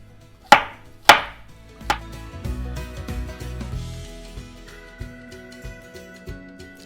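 A knife roughly chops mushrooms on a board: two hard, sharp chops up close, then a run of softer, quicker cuts trailing off irregularly.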